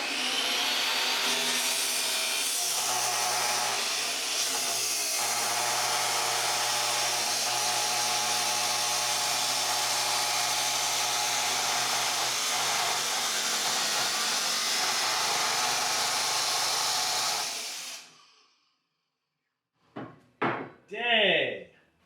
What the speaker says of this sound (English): let's try it with a miter saw here, and I've got a steel cutting blade on it, so I'm gonna try this piece of aluminum